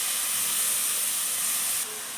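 Bitter gourd pieces drop into a hot pan and set off a loud, steady, close sizzling hiss that holds evenly, then drops a little in level near the end.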